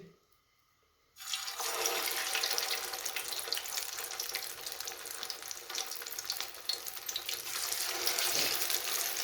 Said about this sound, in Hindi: हाथ साफ करते हैं